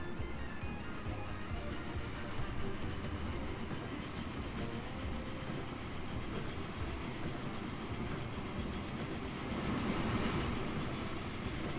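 A NoHab diesel locomotive hauling freight in the Transport Fever railway simulation game runs as a steady, dense rumble with faint rail clatter, continuous and unbroken throughout, with no talking.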